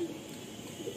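A yellow-eyed show pigeon in a loft coos softly with low murmuring calls, close but faint, over a steady background hiss with no talking.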